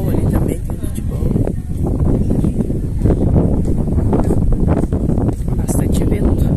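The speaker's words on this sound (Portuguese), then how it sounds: "Bastante vento." Strong wind blows into the microphone outdoors at a family party near a football pitch. A loud, continuous low rumble and buffeting lasts throughout, with a voice partly buried underneath.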